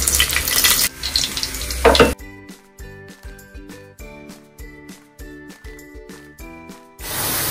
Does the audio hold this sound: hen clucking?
no